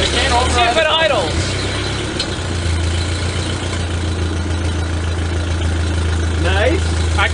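A 1939 Ford 9N tractor engine idles with a steady low rumble that carries through the whole stretch, while people talk over it close by.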